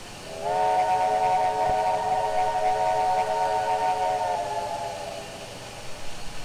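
A steam whistle on an MNRR T-3 4-6-0 locomotive in the Trainz 2019 train simulator gives one long, loud, steady chord-like blast of about four seconds over hissing steam, then cuts off and leaves the hiss.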